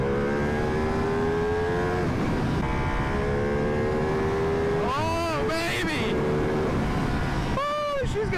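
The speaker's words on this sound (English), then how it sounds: "You have to get this thing up past like 9K RPM, and it just like it starts to rip." Ducati V2 motorcycle engine revving hard and accelerating up high in the rev range, with a loud sustained rising whine broken by quick shifts and repeated climbs, recorded on board while riding.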